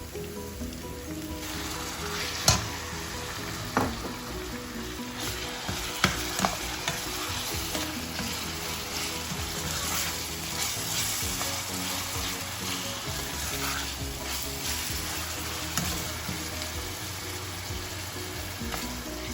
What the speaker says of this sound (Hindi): अब मैं कीमे को भूनने लगी हूँ।